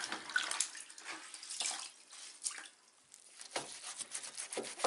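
Water being wiped onto a utility-room wall with a wet cloth, heard as soft splashy rubbing and dribbling in irregular bursts, close and fairly faint with brief quiet gaps.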